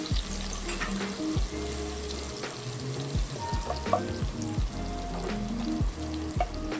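Crushed garlic and a pinch of asafoetida sauté in hot oil in a pan while cooking a lentil curry, giving a steady close sizzle and frying crackle with occasional stirring clinks.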